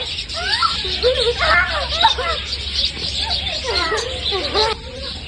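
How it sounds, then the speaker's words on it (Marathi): Sparrows chirp busily at a family meal gathering, a rapid run of overlapping high chirps close by with a murmur of people in the background. "तो चिमण्यांचा आवाज आहे"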